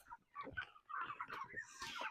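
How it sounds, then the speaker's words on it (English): Meat chickens clucking and murmuring in a movable tractor pen, a run of soft overlapping clucks and chatter from several birds, fairly quiet and close, with no talking. "These meat birds are not easy to raise."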